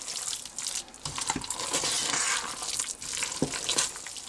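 Vegan risotto with roasted vegetables is stirred in a pan, giving soft wet scraping and gentle sizzling with a few louder spoon knocks, close and fairly quiet, with no talk.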